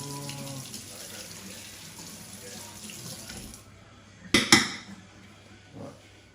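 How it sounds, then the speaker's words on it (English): A dish is rinsed under a running kitchen tap, with a steady water stream for several seconds, then clattering knocks of the dish against the sink, close by with no talk. "I can give this one a rinse."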